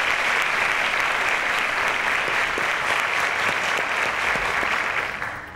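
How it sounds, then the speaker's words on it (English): A studio audience at the Cowbellpedia quiz show applauds a contestant named Festus with a full, loud, steady burst of clapping that holds evenly before easing off at the very end. "A round of applause to Festus."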